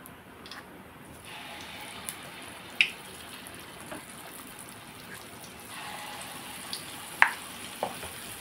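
Food fries in oil in a pan, a quiet, steady bubbling sizzle with a few sharp pops and clinks scattered through, heard close up without speech.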